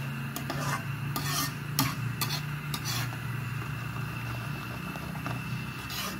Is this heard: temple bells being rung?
no